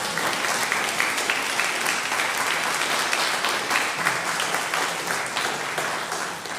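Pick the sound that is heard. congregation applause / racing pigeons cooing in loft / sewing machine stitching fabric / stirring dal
congregation applause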